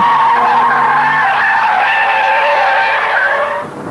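Volkswagen Corrado G60 sliding on a disused runway, a sustained loud tire squeal holding for about three and a half seconds before cutting off, with no voices.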